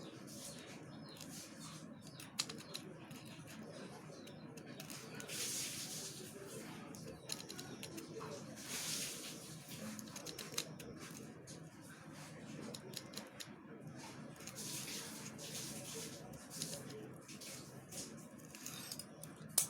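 Scissors snipping through paper for a simple homemade craft, a steady run of small crisp cuts that stay faint and close throughout, with no clear talk over them.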